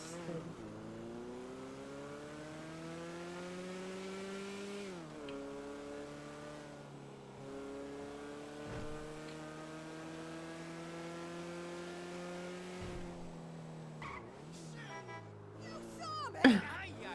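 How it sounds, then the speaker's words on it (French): A car engine revs with rising and falling pitch as it pushes slowly through a crowd at a funfair, the engine steady and near, with a brief sharp noise near the end. "Les gens voient une voiture arriver, ils se poussent pas."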